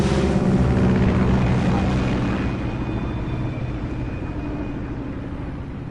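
Aircraft in the Metal Gear Solid video game on PlayStation 5 flying at altitude, a loud, steady broadband engine roar with a faint high whine that eases slightly after a couple of seconds.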